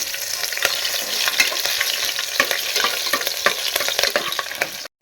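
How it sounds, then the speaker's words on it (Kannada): Cloves and cardamom roasting in a pan for egg biryani, with a crisp sizzle and frequent sharp clicks and scrapes of stirring throughout, close and fairly loud, cutting off briefly near the end. "ಎರಡರಿಂದ ಮೂರು ಲವಂಗ ಎರಡು ಏಲಕ್ಕಿ ಕಾಯಿ ನೋಡಿ ಈ ಥರ ರೋಸ್ಟ್ ಮಾಡ್ಕೋಬೇಕು"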